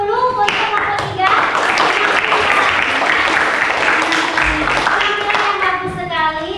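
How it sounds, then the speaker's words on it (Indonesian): Students in a classroom give a presenting group a round of dense, energetic applause, many hands clapping together steadily and close by, with voices talking and calling out over the clapping. "Kita berikan aplaus dulu untuk kelompok 3"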